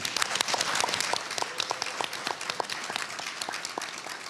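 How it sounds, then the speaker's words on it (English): Audience at an education summit applauding young panelists, a sustained crowd of clapping hands at moderate volume, steady and then slowly tapering, with no one speaking over it. "Y'all give them a round of applause too."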